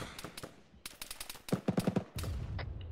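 Several gunshots in a military video game: sharp cracks in quick bursts with short gaps, then a heavier low rumble at the end.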